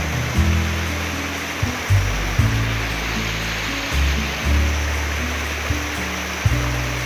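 Water in a cool forest stream rushes in a constant broadband wash, loud and close, with occasional low thumps and gurgles breaking through the steady flow.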